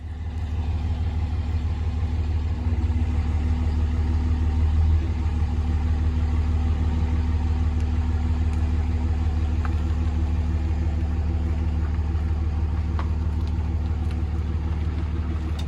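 Steady low engine rumble of a vehicle creeping slowly out from under a pallet holding a vintage Brown and Sharpe milling machine, continuous and close, swelling slightly partway through, with no talk.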